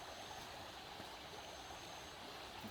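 A river stream flows outdoors in nature, producing a faint, steady broadband rush of water without pauses or talking.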